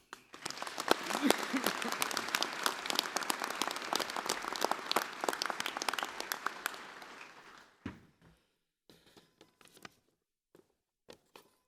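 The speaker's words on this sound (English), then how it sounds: "please another warm round of applause for Dr. Kevin Marshall." Steady applause from a large crowd at a university graduation ceremony for about eight seconds, then fading to a few scattered claps and small noises.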